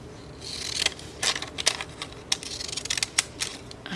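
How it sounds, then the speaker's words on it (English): Decorative edged scissors snipping through paper during collage work, giving a run of close, crisp cutting clicks and crunches at an irregular rhythm, with no talk. "Let's cut this out. I'm using my decorative edged scissors."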